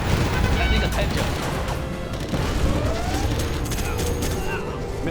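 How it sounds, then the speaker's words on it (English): Continuous minigun fire in the game Command & Conquer Generals Zero Hour, a dense, unbroken roar of rapid shots with crashes and battle noise, while game voices speak over it. "Our miniguns will destroy the enemy."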